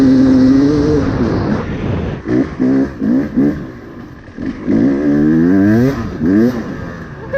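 A Beta 250RR two-stroke dirt bike fitted with a Lectron carburetor revs hard and pulls up through the gears, loud and close, its engine note climbing in repeated rising sweeps with brief dips at each shift.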